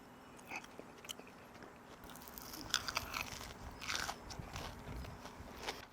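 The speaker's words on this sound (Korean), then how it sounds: "파이어 살사링에다가 한번 찍어 먹어볼게요." Crunchy bites into cheese-loaded fried chicken dipped in fire salsa ring, eaten at an outdoor yard picnic; repeated close crackling crunches and chewing build over several seconds with no talking.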